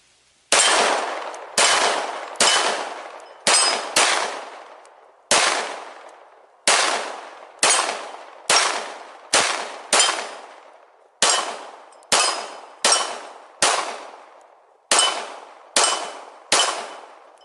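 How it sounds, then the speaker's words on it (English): Pistol shots ring out against a steel target about 12 yards away, roughly seventeen sharp cracks, each followed by a short metallic ring, fired in quick pairs and clusters with brief pauses between them. "I'm going to take a few shots. The pistol steel is right at about 12 yards away"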